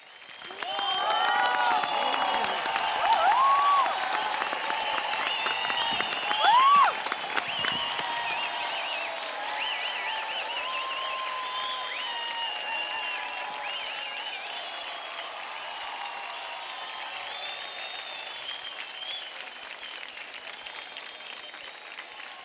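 A TV dance competition studio audience applauds after a performance, dense sustained clapping with cheers that swells early and then holds steady for over twenty seconds.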